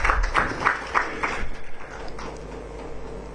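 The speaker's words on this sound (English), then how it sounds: "Another round of applause for Dr." A talk show audience at a public dialogue on reproductive justice gives Dr. Musana a round of applause, a sparse run of claps in the first half that thins to a quieter room.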